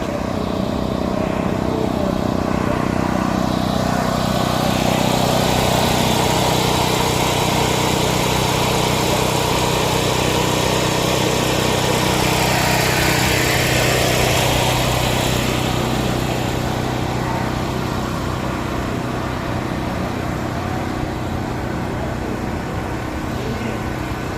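A motorbike engine rumbles loud and steady through a Brooklyn Memorial Day parade, a continuous close drone that swells slightly midway and then holds, with no clear talk over it.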